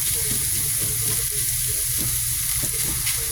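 Food frying in a generous amount of cooking oil, being cooked until lightly browned and crisp, with a steady loud sizzle and occasional stirring noises throughout.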